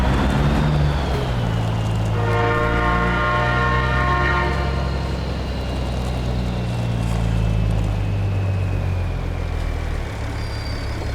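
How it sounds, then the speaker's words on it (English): A train rolls past with a loud, steady rumble in American Truck Simulator while a truck waits for it. A long, bright horn blast sounds for a few seconds in the middle. "wait for the train to go by."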